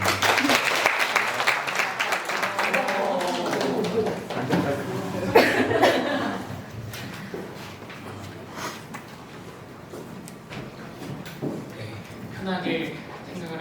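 Audience applause at a social work practicum final evaluation, loud clapping at first that fades out, followed by coughs, a chuckle and a voice speaking.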